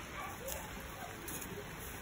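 Rain falling outdoors during a barbecue, a steady soft patter with a faint hiss that stays even and continuous throughout.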